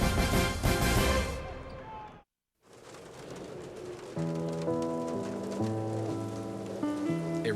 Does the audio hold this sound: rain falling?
yes